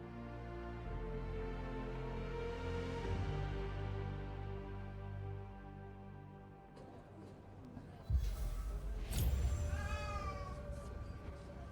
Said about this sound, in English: Oh my god. My cat.